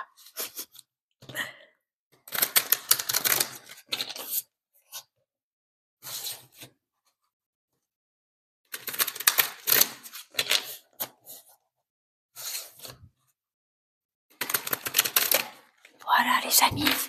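A large deck of cards shuffled by hand, heard as several bursts of riffling and flicking with quiet pauses between them, close up and fairly faint, with no talk over them.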